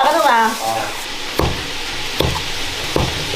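Goose meat, cooked with a little mutton fat, sizzles as it is stir-fried in a wok. A brief voice opens, followed by a steady fry and three sharp spatula scrapes against the pan.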